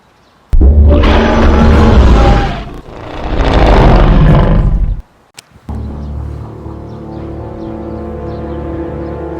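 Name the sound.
loud monster roar, Godzilla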